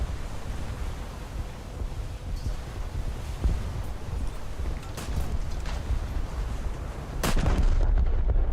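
Main guns of the battleship Fuso firing in a naval video game, heard as a few sharp, booming blasts over constant wind-like background noise, with a louder, heavier burst near the end.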